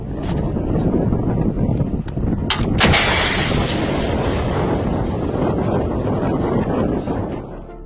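An HJ-8 anti-tank missile launching: a loud, sharp blast followed by a sustained roaring rush that slowly fades, with wind buffeting the microphone throughout.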